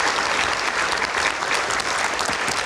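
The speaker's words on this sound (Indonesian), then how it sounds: "kita berikan tepuk tangan." Audience applause in a televised political talk-show studio, steady dense clapping throughout at even loudness with no speech over it.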